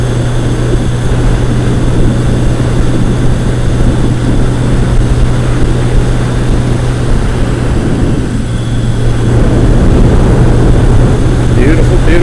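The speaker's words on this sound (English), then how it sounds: "The joys of motorcycle riding" A motorcycle cruises on a morning ride, its engine a steady loud drone blended with constant rushing wind noise across the whole stretch.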